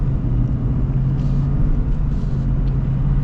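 Lifted Ford F-350 with a Power Stroke diesel, heard while driving: a steady, loud low engine drone with road rumble that holds constant throughout, with no speech.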